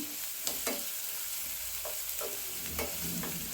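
Spicy egg thokku masala sizzles and fries on high heat in a pan, a faint steady hiss broken by several sharp scrapes and stirs of a spoon.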